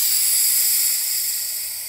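Steady, loud hiss of steam pressure escaping from a Mr Coffee steam espresso and cappuccino maker, continuous and close, tapering slightly toward the end with no talking.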